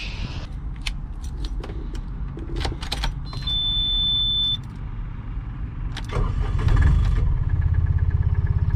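A Microcar Dué Must, a small licence-free car, rumbles along on a test drive, with a steady engine drone, a few clicks and a brief electronic tone, then rising engine noise near the end.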